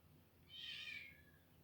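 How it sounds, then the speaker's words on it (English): A single drawn-out meow from a cat outdoors, faint and somewhat distant, rising and fading over about a second against quiet background hiss. "You hear my cats out there?"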